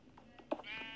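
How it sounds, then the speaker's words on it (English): A sheep bleats once nearby, a short wavering cry that rises from quiet background and fades after about half a second. "Actually, I hear a sheep."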